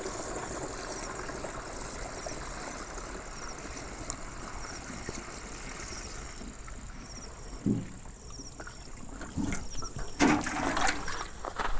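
Water gushes and trickles into a crop sprayer tank for several seconds, a steady rushing flow with a few clunks and splashes toward the end.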